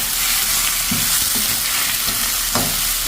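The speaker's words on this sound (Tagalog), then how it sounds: "Ilagay na po natin yung ating alimango. Ayan. Gisa-gisa muna natin ito." Crab pieces hitting a hot pan after the aromatics have gone golden brown, for a coconut-milk crab dish: a steady loud sizzle with a few clattering stirs, no voices.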